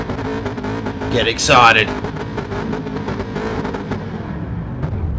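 Supercar engines drone together on the starting grid of a racing video game, a steady massed hum with a brief louder rise near the start, all under continuous commentary.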